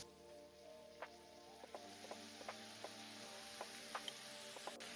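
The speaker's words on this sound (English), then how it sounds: "Once the oil is heated, add the meatballs." Meatballs sear in olive oil in a large skillet over medium heat, giving a steady, fairly quiet sizzle with scattered small pops and crackles. No one speaks over it.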